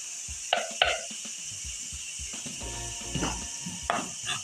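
Spices, ground capsicum and green chili fry in a pan as a spoon stirs them, sending sharp metallic clinks and scrapes over a faint, steady sizzle.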